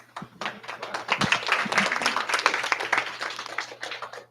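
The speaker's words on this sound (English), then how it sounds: "We actually encourage clapping." An audience claps at a Grace Christian Academy visitation gathering, the scattered clapping swelling into a fuller patter and then tapering off, with a low electrical hum running underneath.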